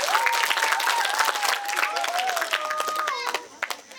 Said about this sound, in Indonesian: Tepuk tangan dulu untuk Share Edu Indonesia